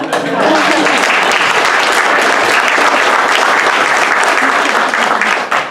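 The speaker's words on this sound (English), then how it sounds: "How about a round of applause for Lisa?" Loud, sustained audience applause at an improv comedy show after a scene ends, a thick continuous roar of clapping from a packed room that holds steady before dropping off abruptly at the end.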